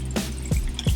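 A chilled peach cocktail pours out of a drink shaker in a brief liquid gurgle with a few splashing drips, close and moderately loud.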